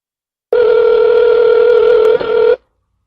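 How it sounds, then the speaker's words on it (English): A single long electronic ringback tone on a phone line, steady and loud for about two seconds, then stopping abruptly. "It's ringing. I'm calling him."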